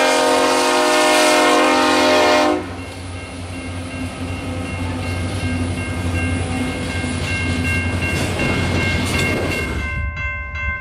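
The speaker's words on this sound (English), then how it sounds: "It's a loaded coal train" A train horn blares loudly at the start, then a heavy loaded coal freight train rumbles past close by with a steady grinding roar of wheels on rails.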